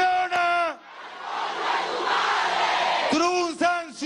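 Youth marchers chant a slogan in unison at a political march receiving the Venezuelan president, with loud shouted voices opening and closing the stretch around a sustained crowd roar.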